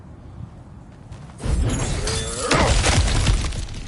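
Breakable objects shatter in God of War Ragnarok, a loud crash of splintering and crumbling debris following a quieter stretch, with a second heavier burst of breaking near the end and no voices.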